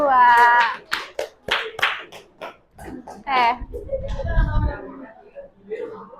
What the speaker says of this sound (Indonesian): Oke, tepuk tangan dulu nih buat kelompok 2.